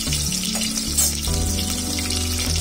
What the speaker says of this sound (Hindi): तो सुनहरा होने तक हल्का सा हमें फ्राई करना है